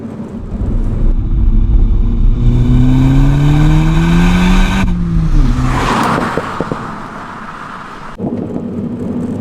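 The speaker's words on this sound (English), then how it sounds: "There you can just hear some of the overruns. That's on the stock exhaust as well" A Mini F56 Cooper S engine revs up and then drops off, followed by a burst of crackling overrun pops from the stock exhaust, loud and close.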